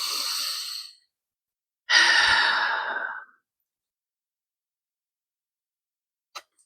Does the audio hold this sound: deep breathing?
yes